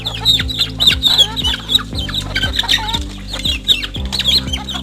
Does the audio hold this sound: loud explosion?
no